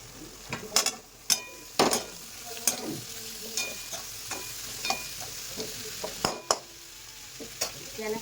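Capsicum is stirred into pasta sauce frying in a pan: a steady soft sizzle runs under repeated scraping and clinking of a spoon against the metal, at irregular intervals, close by.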